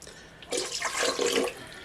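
Water pours or runs into a bowl for bread dough, starting suddenly after a quiet moment and splashing steadily for about a second before tapering off, close and clear with no talking.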